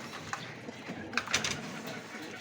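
Soft cooing from racing pigeons close by, a few low murmuring calls over a steady outdoor background.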